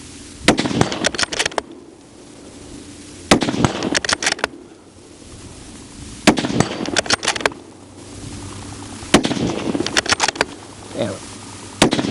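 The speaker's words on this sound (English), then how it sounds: "You can have one shooter engaging all the targets, like I'm going to do today" Rapid strings of sharp gunshots hitting a hostage rescue target system on a shooting range, loud close bursts separated by short pauses, with faint talk in the gaps.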